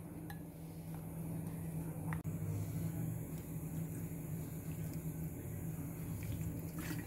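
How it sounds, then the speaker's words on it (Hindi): Water pours steadily into gobhi pakora batter in a kitchen bowl, with a continuous trickling wash and a few faint clinks of utensils against the dish. "मैं इसमें ऐड करूँगी पानी।"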